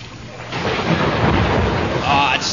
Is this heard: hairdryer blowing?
no